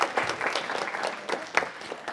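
A round of applause at a council meeting: a steady wash of many hands clapping from a modest audience, close and even for about two seconds.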